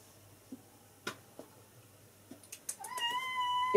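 A pet cat meows indoors, with a few quiet ticks and taps first, then a rising, sustained meow that swells louder toward the end, no talking.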